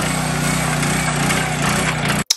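A heavy duty ground auger drilling into soil while planting Princeton Sentry ginkgo trees, a loud steady motor roar and grinding drone that cuts off abruptly near the end.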